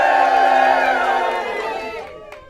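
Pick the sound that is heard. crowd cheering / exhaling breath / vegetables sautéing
crowd cheering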